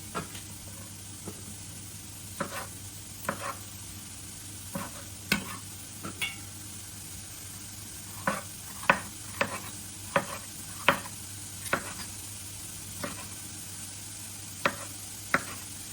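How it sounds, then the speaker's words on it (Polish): A knife chops red and yellow bell pepper on a cutting board in irregular, sharp taps, close and fairly quiet, over a faint steady background hum. "Teraz kroję warzywa. Zacznę od papryki."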